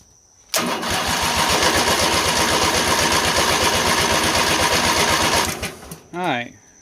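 A Lawn Boy mower engine fires with the choke on and runs loud and close with a steady rapid putter for about five seconds, then cuts out; a voice speaks briefly as it dies away.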